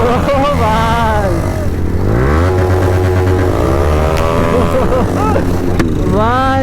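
Bajaj Pulsar motorcycle fitted with an aftermarket exhaust, revving loudly and continuously up close with rising and falling engine pitch, while people shout and talk over it.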